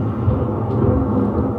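Thunder sound effect from a haunted-room control board in a scare attraction: a steady, heavy low rumble rolling on throughout, loud and dense with no pauses.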